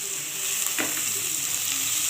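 Tomato paste fries with onions in a hot pan, giving a steady close sizzle with a faint scrape of stirring partway through.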